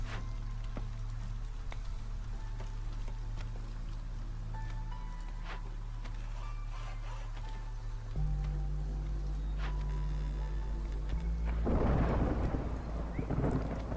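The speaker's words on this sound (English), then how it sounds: "Storm's approaching" A thunderstorm rolls in within the Against the Storm game, steady rain hissing under low rumbling thunder that swells louder near the end, with no speech.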